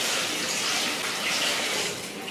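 Tap water runs steadily into a kitchen sink as food is rinsed under it before cooking, a continuous close hiss and splash with no talk.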